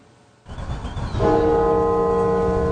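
A single deep church bell at the National Cathedral in Washington strikes once after a moment of low murmur, its long ringing hum sustaining steadily to the end.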